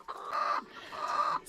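Egg-laying hens on a small farm giving two drawn-out, throaty clucks, close and moderately loud, with no talking.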